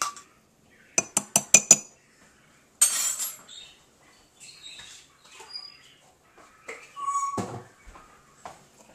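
A spoon stirs flour into batter in a coffee mug, making a quick run of five sharp clinks against the ceramic, then softer scraping and intermittent taps.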